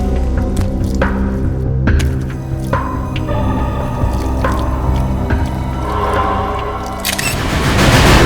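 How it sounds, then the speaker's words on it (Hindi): Water running from an open bathroom basin tap indoors, a steady close wash of flow with drips and splashes throughout, swelling louder near the end. "किसी ने बाथ बेसिन का नली खुला छोड़ रखा है।"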